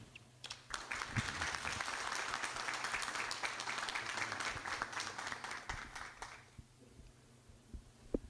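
An audience at a church testimony event claps warmly, a dense burst of applause that rises quickly, holds steady for several seconds, then fades to a few scattered claps.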